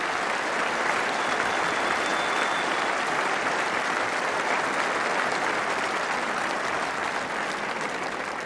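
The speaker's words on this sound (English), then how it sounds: "How about a nice round of applause for the 7 finalists?" Steady, sustained applause from a large audience for the seven Miss World 1977 finalists, dense and even throughout with no voices standing out.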